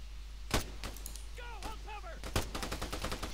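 Gunfire in ARMA 3: several sharp shots crack at irregular intervals, with a ringing ricochet-like whine between them. The shots sound fairly distant and quiet.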